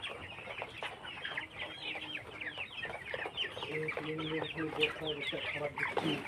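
Farm chickens cluck and chatter while eating feed, with a close, busy mix of overlapping clucks and calls throughout that grows livelier toward the end, and a person speaks briefly among them.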